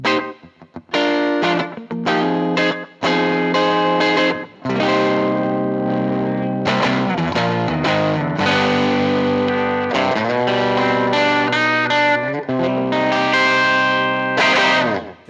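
An electric guitar plays through a Fender Pro Junior amplifier with a driven, slightly distorted tone and echoing effects, in loud, continuous phrases of chords and single notes with no voices.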